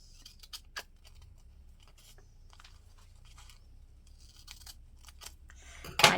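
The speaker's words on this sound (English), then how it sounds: "I'm just going to cut it right down the middle." Scissors snip through paper while a bullet journal planner page is set up, a few crisp close cuts in an irregular rhythm with quiet pauses between, then a louder rustle of paper at the very end.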